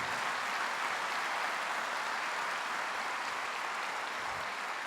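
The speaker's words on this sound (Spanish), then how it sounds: "Dale ese aplauso al Señor." A church congregation applauds the Lord during a sermon, a dense, continuous wash of many clapping hands held at a steady level throughout.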